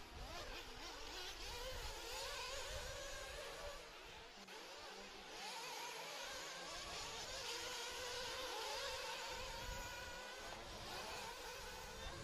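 1:8 scale intermediate nitro RC buggies racing on a dirt track, their small engines whining and revving continuously as several cars buzz past at varying distances, with no pauses in the high-pitched drone.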